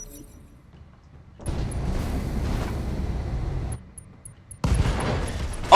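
Heavy explosive bursts and gunfire-like blasts from combat in the BattleTech video game, a long rumbling stretch followed by a short gap and then another loud, sharp burst near the end, with no talk over it.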